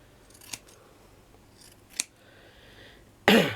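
Scissors snip through craft material, a few distinct close cuts spaced apart, ending in a louder, longer scrape-snip.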